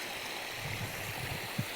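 Irrigation water flows through a wheat field in a steady, quiet rush, with a few soft low gurgles and thumps rising from the continuous wash.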